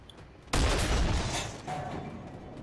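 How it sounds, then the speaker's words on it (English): Enemy artillery shell landing in the World of Tanks video game, a sudden loud boom that hits after a quiet moment and rolls into a rumbling, decaying blast tail. "That was the enemy artillery again."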